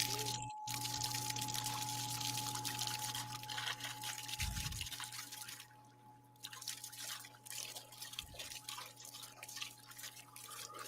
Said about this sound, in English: So the water's going into the buckets,